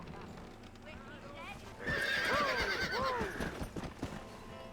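In Red Dead Redemption, horses whinny with several shrill, wavering neighs and clip-clop hooves nearby, rising suddenly to moderate loudness and then fading, with speech heard in the scene.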